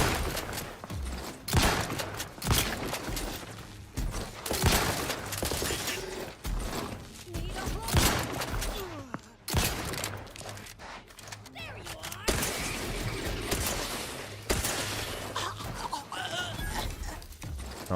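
Gunfire from a firefight in The Outer Worlds 2, with a mech closing in: loud, dense volleys and bursts of shots recurring throughout, mixed with game effects and talk.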